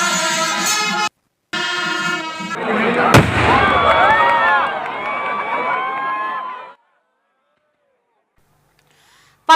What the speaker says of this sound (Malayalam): രാത്രി ദേശങ്ങളുടെ വെടിക്കെട്ടുമുണ്ടായി